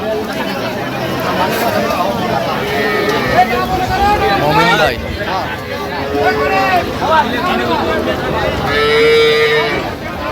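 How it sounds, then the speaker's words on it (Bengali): Small bulls and calves moo repeatedly at a cattle farm in Dhaka, with long drawn calls rising over constant nearby chatter and background noise. "গরুগুলো দেখছেন"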